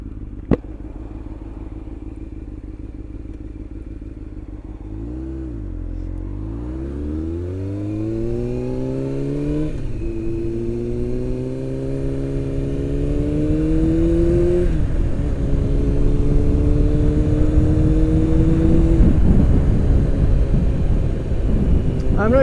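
A motorcycle ridden on a road in a northern area revs and shifts up through several gears, engine pitch climbing and dropping with each change, loud and close under steady wind rush.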